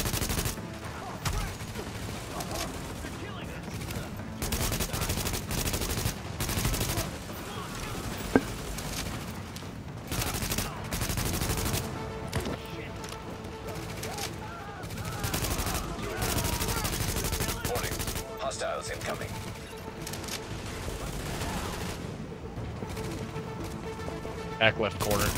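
An LMG in the shooter game The Division fires long, loud, rapid bursts of machine-gun fire nearly nonstop with other gunfire, and players talk over the shooting throughout.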